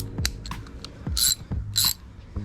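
A ratchet wrench with an extension turns a hitch bolt on a Chevy Astro/GMC Safari AWD camper van, a few quick clicking bursts close by with short pauses between strokes.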